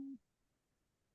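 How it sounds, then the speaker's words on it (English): A mobile phone gives one short, low buzzing tone lasting a fraction of a second, heard faint and distant during an online teacher training session, then nothing but quiet room noise. "somebody's phone is buzzing"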